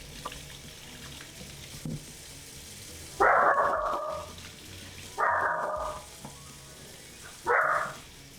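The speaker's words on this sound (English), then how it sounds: "Who are you barking at?" A dog barks three times, each a short, fairly loud burst spaced about two seconds apart, over a steady hissing background.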